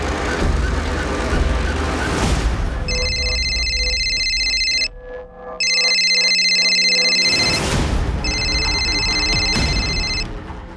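A mobile phone rings in repeated electronic trilling bursts, loud and close, with a short pause between rings and dramatic crime-drama music underneath.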